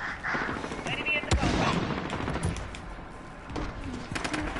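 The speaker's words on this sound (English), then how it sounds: "Shots fired, shots fired." Gunfire from an M4A1 rifle in Modern Warfare gameplay: several sharp shots crack over a busy game soundscape, the loudest burst near the middle, with fainter pops later on.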